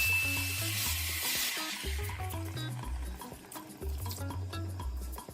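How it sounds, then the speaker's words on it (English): Beef sauce sizzles steadily in a pot while a utensil stirs it, scraping and clinking against the sides over a continuous frying hiss. "Give it a good stir and allow it to simmer for about 5 minutes"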